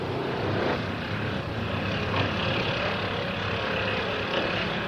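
A propeller airplane flying, a continuous droning engine hum with steady low tones, moderately loud and unbroken, no speech.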